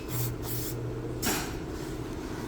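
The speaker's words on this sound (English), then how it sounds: "Spray some more brake cleaner." Brake cleaner hisses onto the rear brakes of a 2017 Toyota Camry in a few close aerosol bursts, the longest one coming about halfway through, over a faint steady hum.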